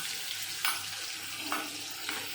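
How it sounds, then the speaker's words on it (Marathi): Ivy gourd (tondli) frying in a pan with a paste of green chilies, garlic and coriander, giving a soft steady sizzle with a few louder stirring scrapes, close by and with no talk. "आता ह्याला फ्राय करून घेते."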